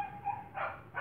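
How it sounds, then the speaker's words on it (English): A neighbour's dog barks twice, two short, fairly close yelps about half a second apart, heard alone without talk. "sorry about the barking, that is our neighbor's dog."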